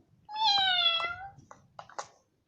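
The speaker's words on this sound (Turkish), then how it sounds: "Kediler 100 tane farklı ses çıkartabilir biliyor musun?" A cat gives one long, drawn-out meow up close, followed by a few short, faint chirps and clicks.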